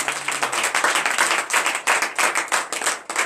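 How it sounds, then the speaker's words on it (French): A church congregation at a morning prayer service claps together in a fast, steady rhythm, dense and close, with no distinct voices standing out. "Donnez de vives acclamations à notre Seigneur."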